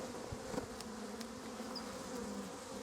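Soft, steady buzzing of many honeybees at a quiet hive, a low continuous hum with a few brief louder passes of individual insects.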